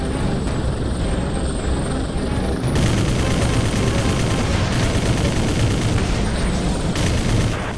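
Helicopter from the video game Prototype 2, a loud steady rotor drone that fills the whole clip, with bursts of gunfire-like crackle mixed in and no talking.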